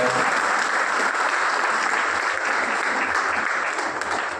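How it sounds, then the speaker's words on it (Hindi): Steady, dense applause from an audience at a gratitude and honour ceremony for the Munger administration, held by Munger Manch in Munger, filling the whole stretch at an even level with no break. "सभी लोगों के लिए जोरदार ताली से"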